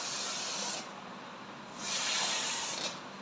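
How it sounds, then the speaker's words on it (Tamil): Air escaping from a small maroon balloon, a close, loud hiss in two long bursts separated by a brief quieter pause. "சின்ன பலூன் தான் சவுண்ட் பார்த்தீங்கன்னா எப்படியே பட்டாசு வெடிக்கிற மாதிரி கேக்குது."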